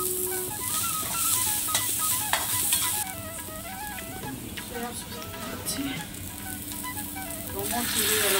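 Garlic and onion frying in a pan for chicken momos, a steady close sizzle with stirring clatter running underneath, while music plays over it throughout.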